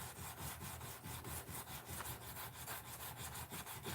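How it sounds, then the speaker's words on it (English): A kitchen knife blade is sanded by hand at around 800 grit, giving continuous rhythmic scraping strokes, several per second, close and steady with no talking. "But nothing gives you a finish like a hand sanded finish."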